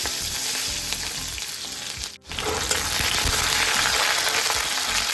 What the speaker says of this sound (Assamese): কেৰাহীখন গৰম হৈছে এতিয়া তেল দি দিছোঁ আমাৰ গৰম হৈ গ'ল জিৰা কেইটামান ফুটাই দিছোঁ